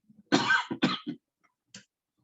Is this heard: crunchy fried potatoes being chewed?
no